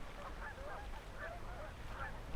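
Geese on a lake honk in faint, distant calls that repeat about three times over a low, steady background rumble.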